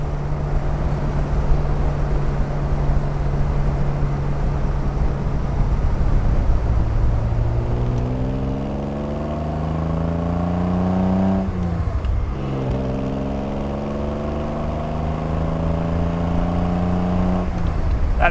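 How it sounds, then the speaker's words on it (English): A 1973 Triumph TR6 with overdrive drones steadily while driving, its exhaust note climbing through the revs in repeated rising sweeps with short dips between gear changes, close and continuous with no talk. "That exhaust sounds amazing."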